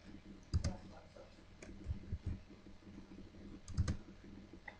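Computer keyboard typing during a PHP database registration setup, a few quiet, scattered key clicks in small bursts with low room noise between them.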